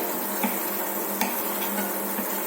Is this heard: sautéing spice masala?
yes